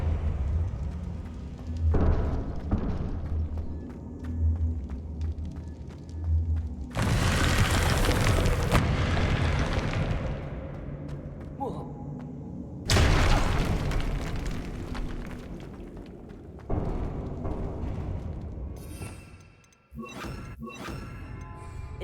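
Bombarda spells explode in Hogwarts Legacy, heavy booming blasts with crumbling, shattering debris, two big detonations several seconds apart amid other game effects and rumble.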